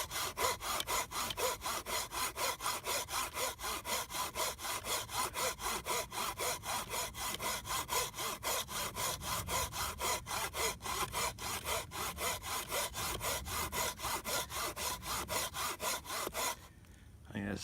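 Kobalt folding saw cutting through green wood in steady, rapid back-and-forth strokes, each rasping pass close and loud, continuing without pause until a brief stop near the end.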